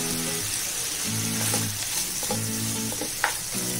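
Prawns fry in butter and garlic in a pan, a steady close sizzle with a faint intermittent tone underneath and a brief scrape near the end. No one speaks.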